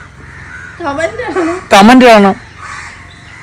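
Crows caw loudly in a run of harsh calls, close and strong, right after a voice speaks briefly in Malayalam; faint talk follows.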